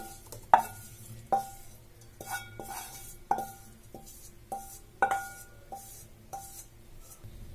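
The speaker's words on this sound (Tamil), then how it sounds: "இதை நல்லா மிக்ஸ் பண்ணிடலாம்." A spoon mixes dosa batter in a metal bowl after fried chilli and garlic go in, clinking and scraping in an uneven rhythm of knocks against the bowl, close and moderately quiet.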